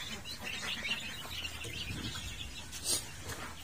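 Chickens in a rural coop cluck and chirp softly amid a busy background of rustling and scattered noise, the calls close but not prominent.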